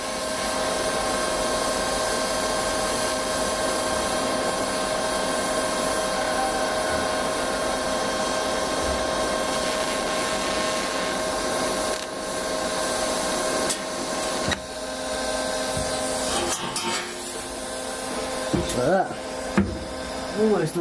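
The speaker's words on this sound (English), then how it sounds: "let's get a bit of this welded up. Running it hot and fast." Steel is welded hot and fast on a DIY mobile bandsaw mill, giving a steady, continuous electric buzz and hiss that runs unbroken for most of the stretch, with a few clicks and pauses near the end.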